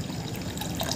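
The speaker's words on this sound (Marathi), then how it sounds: "आता यामध्ये आपल्याला हे स्वच्छ पाणी घालून घ्यायचं आहे." Clean water pours steadily into a pot of washed lentils for traditional spinach dal, a close, continuous splashing that fills the whole short moment without any voices.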